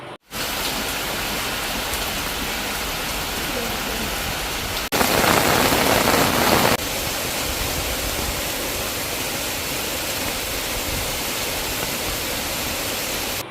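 Steady heavy rain pours down across a district in Tamil Nadu, a dense continuous hiss that swells briefly louder midway before settling back to an even downpour, with no voices.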